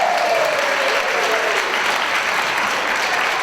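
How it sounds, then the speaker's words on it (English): Steady applause from an audience at a VIP Day event, a dense wash of clapping that holds at an even level throughout, with a faint children's voice in the background. "VIPs, clap for them."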